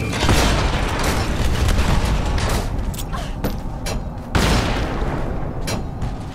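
Bomb blasts in Lara Croft and the Temple of Osiris, loud booming bursts layered over a dense, continuous game soundscape, with a sharp new blast punching in near the end.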